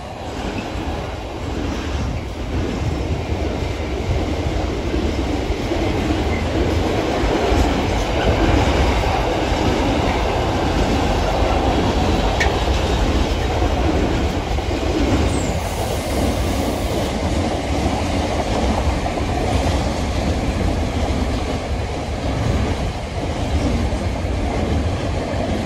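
A long intermodal freight train rumbles steadily past nearby at Syston, wheels clattering over the rails for the whole stretch, with no voices.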